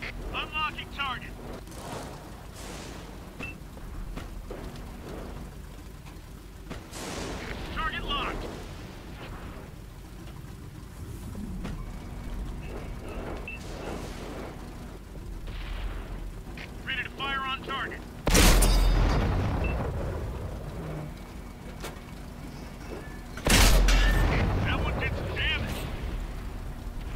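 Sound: SU-85 tank gun firing in World of Tanks video game

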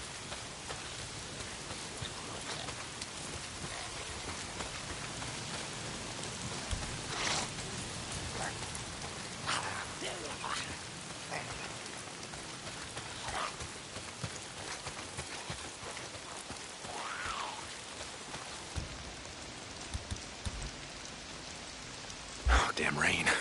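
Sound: rain in the video game Days Gone

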